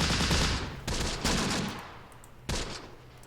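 Gunfire in the WWII tactics game Close Combat: The Bloody First, loud rattling bursts of rifles and machine guns with sharp cracks at intervals, dense and close with no talk.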